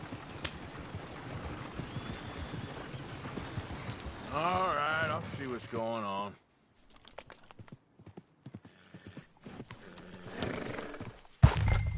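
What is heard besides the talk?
horses in video game Red Dead Redemption 2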